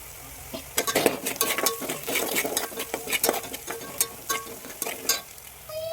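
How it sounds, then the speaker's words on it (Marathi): Onion fries in a pan for bhogichi amti, and a spoon stirs it repeatedly, scraping and clinking against the metal over a steady, close sizzle. "कांदा घालून मस्त भाजून घ्यायचा आहे"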